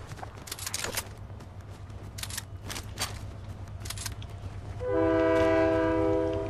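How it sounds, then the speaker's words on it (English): A train in the video game Fortnite rolls past with rhythmic clatter, then a loud sustained horn blast sounds near the end, with no talk over it. "There's a train."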